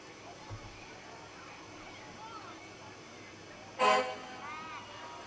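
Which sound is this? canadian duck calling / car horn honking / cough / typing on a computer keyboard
car horn honking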